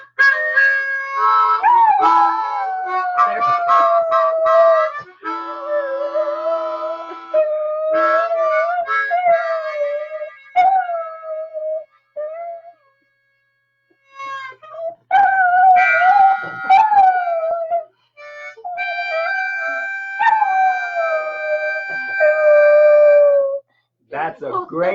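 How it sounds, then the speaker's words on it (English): A dog howls in long, wavering, singing-like tones, rising and falling in several drawn-out phrases with short pauses between them, loud and close, while a person talks over and between the howls. "That's a great big little dog."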